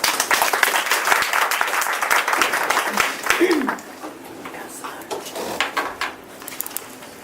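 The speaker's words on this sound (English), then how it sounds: "Please help me welcome Toastmaster Otake with big applause." Audience applause at a Toastmasters meeting, a dense burst of many hands clapping indoors that fades after about four seconds into scattered claps and room murmur.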